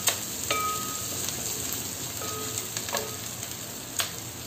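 Softened onions and green chillies fry in a pan for chicken majboos, giving a steady close sizzle with a few light taps and scrapes of a spoon.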